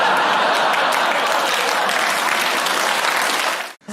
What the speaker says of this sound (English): audiences cheering at the name of the town in which they reside